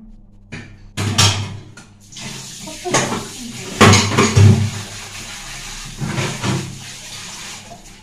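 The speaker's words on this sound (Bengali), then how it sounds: "বাসন মাজতে মাজতে মানে কি বলবো আর, দেখো কত বাসন পড়েছে" Dishes, pots and pans being scrubbed and rinsed at a kitchen sink with running tap water, with intermittent clatters and splashes over a steady low hum, fairly close.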